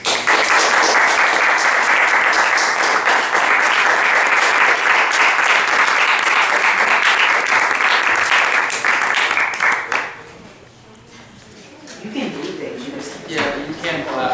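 Studio audience applause after a Big Brother eviction, a loud sustained wash of clapping lasting about ten seconds before dropping away, followed by a voice speaking.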